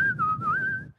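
One person whistles a single sustained, wavering note imitating a bird call, close and clear for about a second before cutting off.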